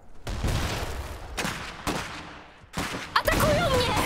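Several loud bursts of rapid gunfire in the video game Iron Harvest in quick succession, with short gaps between volleys.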